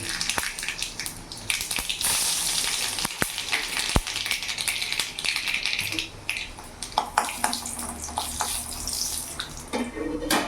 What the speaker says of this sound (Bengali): তেল গরম হয়ে গেছে এখানে ফোড়নে দিয়ে দিলাম দুটো শুকনো লঙ্কা আর গোটা সর্ষে